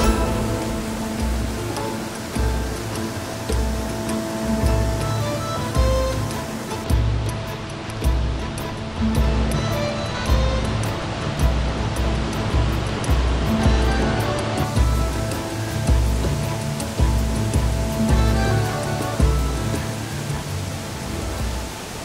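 A waterfall in Southern Scotland roars steadily and loudly throughout, a dense, unbroken rush of falling water with slow surges and no voices.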